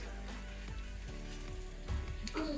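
Bonda balls made from leftover idli batter fry in hot oil, a soft steady sizzle with a few light clicks and a brief louder clatter near the end, fairly faint and close.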